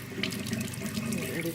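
Tap water runs steadily into the water tank of a white Xiaomi Mi Robot Vacuum & Mop 2.0, a continuous close splashing rush that goes on without a break.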